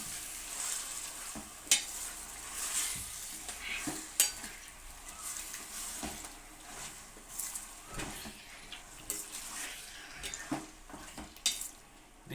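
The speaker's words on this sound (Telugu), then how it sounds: "ఇది బాగా మనం వేపుకోవాలి." Chittoor chicken fry sizzling in a pan with ginger-garlic paste while a spoon scrapes and stirs, giving irregular clinks and scrapes over a continuous close frying hiss, with no voices.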